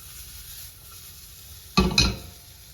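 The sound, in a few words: red onions sautéing in a pan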